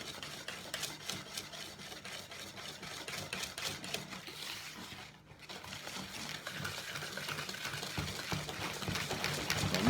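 Pancake batter whisked by hand with a manual whisk, heard as rapid, steady rhythmic scraping and slapping in a bowl, close and continuous, briefly pausing midway before resuming slightly louder.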